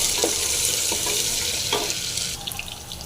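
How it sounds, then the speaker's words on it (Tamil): Crushed garlic frying in hot oil with popped mustard seeds and curry leaves, stirred with a few scraping strokes of a spoon over a steady, close, loud sizzle. "அடுத்து இடித்த பூண்டு போட்டு நல்லா கலக்கிங்க"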